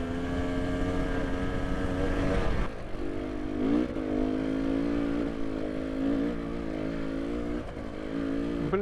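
An enduro motorcycle at an enduro event runs hard and close, its engine buzzing loudly and steadily, dipping and climbing in pitch with throttle and gear changes.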